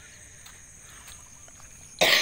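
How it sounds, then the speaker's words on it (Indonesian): One sudden close cough bursts out at the end after quiet, foggy outdoor ambience with faint insect buzzing during mini river rafting. "Maaf teman-teman, saya masih batuk."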